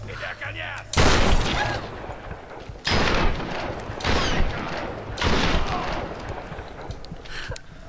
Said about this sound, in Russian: Да, в упор все-таки дробовик тащит.